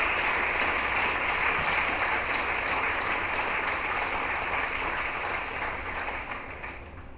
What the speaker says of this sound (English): So serve up a big helping of applause, please, for our first FameLab of the evening, Luiza Wasiewska.